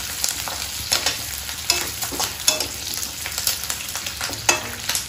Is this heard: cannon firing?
no